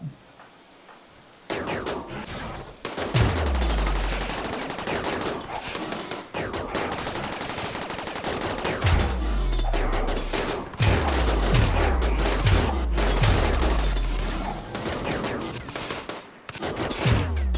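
Weapons fire in a RimWorld battle crackles in dense, continuous volleys, with rapid sharp reports layered over repeated deep booming impacts that fall in pitch, loud and sustained.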